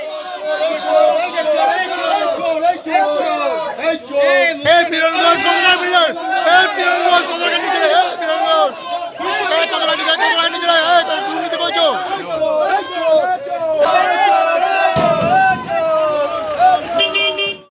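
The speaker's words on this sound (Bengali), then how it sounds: "আদালতে নিয়ে যাওয়ার সময় ধৃতদের উদ্দেশ্যে উপস্থিত একাংশ মানুষের মুখে চোর চোর স্লোগান শোনা যায়।" A crowd outside the Barrackpore court shouting 'thief, thief' at arrested men being taken in, loud massed voices chanting continuously and close by, with vehicle horns sounding in the street.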